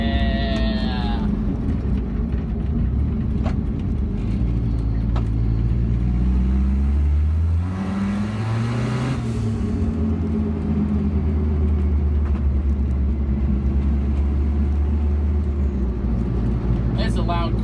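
Car engine fitted with a newly installed muffler runs loud and steady, with a low rumbling drone and a swell of revving midway, while people talk over it.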